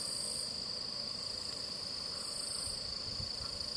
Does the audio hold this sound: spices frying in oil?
no